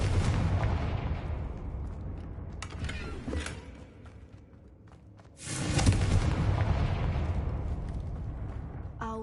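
A Confringo spell explosion in the Hogwarts Legacy video game, a rumbling blast with crackling debris that fades into a quiet lull, then a second loud rumbling burst that carries on to the end.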